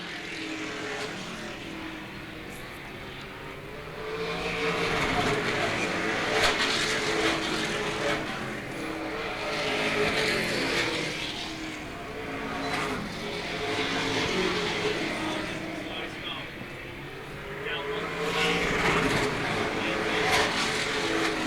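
Race cars lapping at Star Speedway during a feature race, engines swelling and fading in repeated passes at middle distance under a race commentator's voice.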